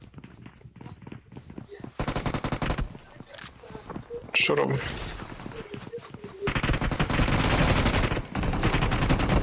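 Rapid bursts of automatic gunfire in PUBG Mobile crackle in loud waves, with people talking excitedly between and over the shots.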